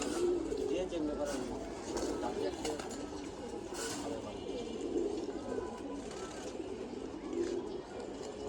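Pigeons cooing softly in a loft, low rolling coos repeating under steady background noise while someone talks nearby.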